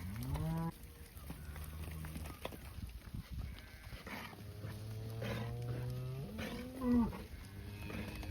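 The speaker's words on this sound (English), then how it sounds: "More grazing cows are coming in." Grazing cattle in a hill-country farming simulator game moo in long, drawn-out calls, several overlapping across the stretch, over a steady background hum with no talking.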